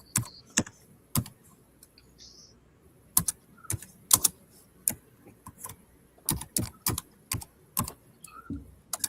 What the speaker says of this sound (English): chonking at the keyboard